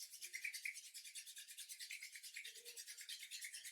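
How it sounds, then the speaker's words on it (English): Palms rubbing briskly together during a yoga session, a steady close swishing friction that keeps up without pause, with no talking over it. "Bringing the palms together to your heart. Start rubbing them together."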